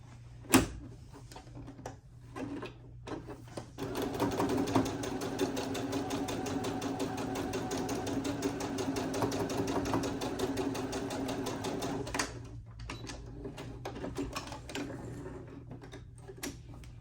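A sewing machine stitches quilt squares placed right side to right side in one steady run of about eight seconds, fairly quiet, with faint handling noises before and after.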